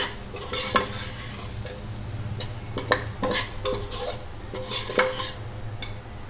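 Spices and chole masala powder fry over a low flame, a soft, continuous sizzle broken by repeated sharp scrapes and clinks of a spoon stirring against the pan, close and steady with no voices.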